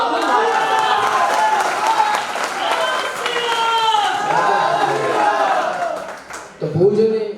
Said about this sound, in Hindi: हो तो आप जोरदार तालियां बजा के आदेश दें कि राम भाई ये छंद दोबारा पढ़ दें।